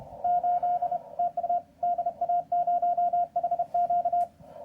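Strong Morse code CW signal from German station DA0HQ heard on a radio through a 500 hertz filter, a clear steady tone keyed in rapid dots and dashes over faint background static.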